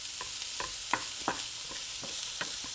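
Broccoli stir-fried for fried rice sizzles steadily in a hot pan, with a constant hiss and scattered light clinks of the spatula stirring, close and fairly quiet.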